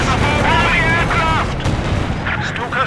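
Artillery and gunfire crash in a winter battle in the video game Company of Heroes 2, dense overlapping booms and shots, loud and close, with faint battlefield voices mixed in.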